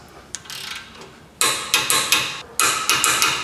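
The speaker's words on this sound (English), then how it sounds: "Just gonna snug those 17mm up." Ratchet wrench snugging 17mm brake caliper bracket bolts on a Honda Civic front hub, a series of sharp metallic clicking bursts in quick repeated strokes, close and fairly loud after a quieter start.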